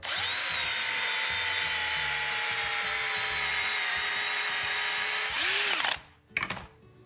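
A power drill bores out a wooden dowel peg in furniture repair, whining at a steady high pitch for several seconds, then dropping in pitch as it winds down and stops, leaving light clattering.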